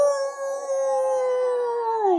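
A human voice imitates a wolf howl, one long sustained tone that slowly falls in pitch toward the end, clear and close with no other sounds.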